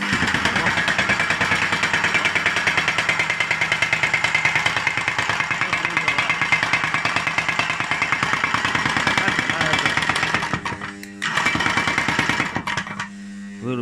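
A 1978 IE4505A 30 kg electric tamping rammer runs with a loud, rapid, steady pounding hum for about ten seconds, then cuts out and briefly restarts.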